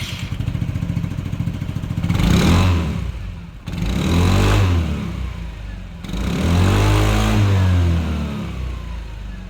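An SYM NAGA 155 motorcycle engine idles nearby, then is revved three times in sharp rising bursts that settle back to a steady idle between each.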